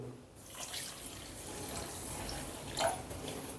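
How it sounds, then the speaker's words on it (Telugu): Running water pours into a bowl of wheat semolina as it is rinsed. A steady tap-like stream plays up close, with a brief splash near the end and no talking. "ఇప్పుడు ఈ రవ్వని ఒకసారి శుభ్రంగా కడుక్కుందాం."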